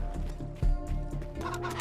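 A chicken in the video game Wasteland 3 clucks and gobbles over a steady musical or ambient hum, a couple of louder throaty bursts standing out near the start and middle.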